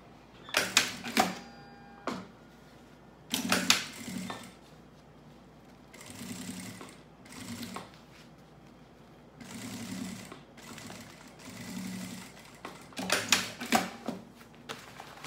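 A sewing machine stitches fabric lining in several short bursts separated by pauses, each run a close, buzzing whir with sharp starts and stops, plus soft handling sounds between.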